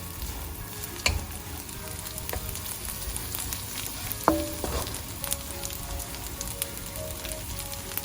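Dried anchovies fry and sizzle in a pan, with a steady hiss broken by a few sharp scrapes and clinks as they are stirred.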